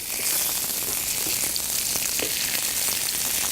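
Salmon and fennel frying in a hot pan, with a loud, continuous close-up sizzle crackling steadily throughout.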